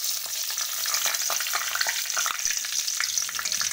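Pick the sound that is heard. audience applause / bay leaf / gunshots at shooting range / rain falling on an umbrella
bay leaf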